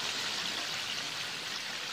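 Steady, dense crackling hiss of chicken deep frying in hot oil, continuous and fairly close with no pauses or voices.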